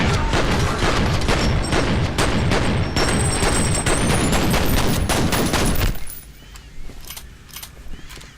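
Loud sustained automatic gunfire from a multiplayer gun in F.E.A.R., a dense rapid burst of shots that cuts off abruptly, followed by quieter scattered clatter.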